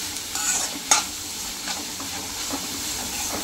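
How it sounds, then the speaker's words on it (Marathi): Fenugreek greens with grated coconut are stirred and sautéed in a pan, giving a soft, continuous sizzle with scraping strokes, a sharp utensil clink near the start and fainter stirring scrapes after it. "खोबरं टाकल्यावर जरा 2-3 मिनिटं चांगलं परतायचं"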